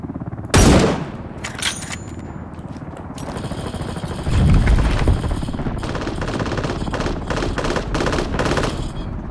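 Automatic gunfire sprays in the video game Ring of Elysium: loud, rapid bursts and a sustained rattling stream of shots, close and dominant.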